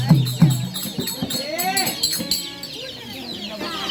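Several close chicken clucks at the start, followed by someone talking over faint barnyard background sounds.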